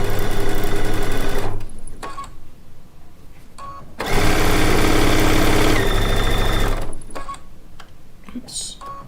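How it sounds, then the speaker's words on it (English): A sewing machine stitches pieces of quilting fabric in loud, steady bursts, pausing between runs, with a longer continuous stretch in the middle and light handling noises in the gaps. "as you're sewing."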